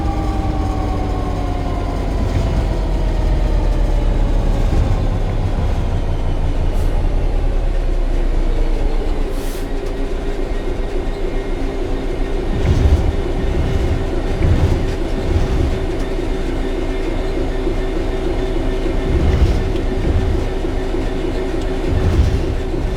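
A train in Train Sim World 3 coasts on level ground with the throttle at zero, a continuous rolling rumble with a slowly falling motor whine and periodic clickety-clack of wheels over rail joints.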